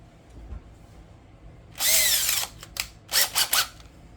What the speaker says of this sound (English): Now I use a 1/8 drill bit to do just the pilot hole